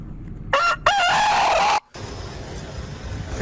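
A rooster crows loudly and close by in one strained, drawn-out call that breaks off abruptly, followed by steady background noise.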